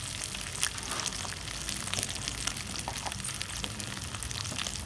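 Salted fish sizzles and fries in a pan with hot oil, a continuous bright crackling hiss with occasional pops, close and steady throughout.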